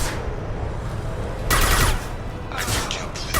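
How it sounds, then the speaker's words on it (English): Video game gunfire from an impact shot in Mass Effect 2: loud broadband blasts, one burst around the middle and a cluster near the end, over a steady background of combat ambience. "Firing an impact shot."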